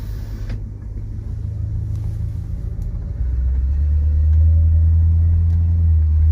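1968 Ford XL Fastback with a 390 two-barrel V8 idling, a steady low rumble heard from inside with the windows up that deepens and grows louder partway through, no talking.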